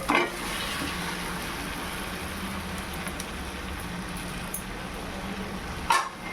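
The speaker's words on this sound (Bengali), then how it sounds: "এবার আমি ম্যারিনেট করা চিকেনগুলোকে দিয়ে দেবো।" Marinated chicken fries in spiced oil with a continuous, even sizzle, and a brief clatter near the end.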